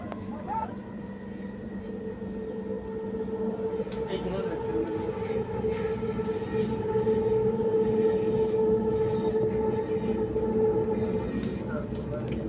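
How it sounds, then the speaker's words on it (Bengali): Ride aboard a driverless Riyadh metro train in motion, a steady rumble with sustained high wheel squeal that swells gradually, heard from inside the carriage. "ট্রেন এখন চলছে রিয়াদ থেকে ভাতার দিকে।"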